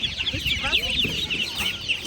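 Chicks cheep continuously and chickens cluck among crowded poultry stalls at a market, with voices talking faintly underneath the chatter.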